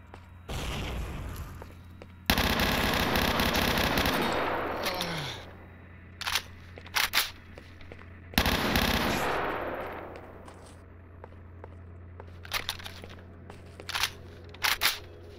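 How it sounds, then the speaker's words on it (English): Machine-gun fire in the video game S.T.A.L.K.E.R. Shadow of Chernobyl: two long, loud sustained bursts of rapid shots, followed by scattered short volleys and single cracks against a low background hum. "when that guy was shooting from behind that wall, can you interpret that as being like deliberate suppressing fire?"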